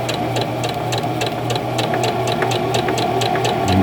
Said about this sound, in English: None of this is straight that I'm sewing right now.